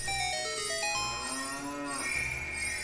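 A cow in Zelda: Ocarina of Time 3D moos in long, drawn-out calls, about two bellows with pitch sliding down and then rising, clear and close with no talk.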